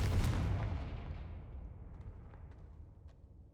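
The Confringo explosive spell from the Hogwarts Legacy video game goes off as a single boom that fades into a long, rumbling decay, fairly faint and alone.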